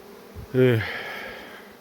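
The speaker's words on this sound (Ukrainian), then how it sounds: "Йде бджілка така важка" A heavy honey bee at an apiary hive gives a short, close buzz that swells suddenly, then fades into a softer hum of working bees over the rest of the moment.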